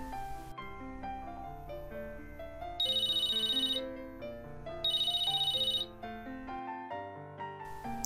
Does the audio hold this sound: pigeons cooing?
no